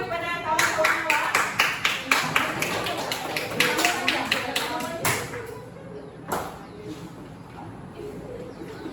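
Students in a maths classroom give their classmates a round of light, scattered clapping that fades after a few seconds, followed by a quieter stretch with a single later tap.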